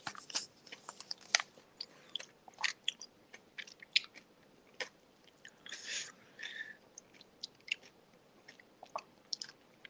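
Close, crisp crunching as someone chews crunchy food, irregular bites and crackles one after another with short quiet gaps between.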